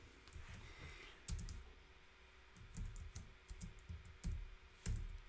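Close, quiet clicking of a computer keyboard as an entry is typed, short bursts of keystrokes with brief pauses between them.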